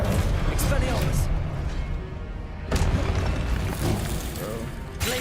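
Magic spell blasts in a Harry Potter-style video game: a burst at the start, a sharp crack near the middle and another at the very end, loud over steady game noise, with a person shouting spell names over the action.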